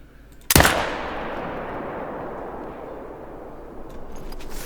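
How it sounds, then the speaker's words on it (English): A single .308 rifle shot fired at a bear while hunting in the Yukon cracks out sharply, then rolls away in a long, fading echo across open country. "That should have been a good shot."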